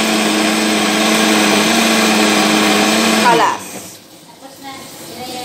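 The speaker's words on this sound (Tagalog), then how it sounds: "Gisulod ko o kanang blender, iblinan na ko ang akong corn." A blender blending corn whirs loudly and steadily for about three seconds, then winds down and stops, leaving a quieter room where someone speaks.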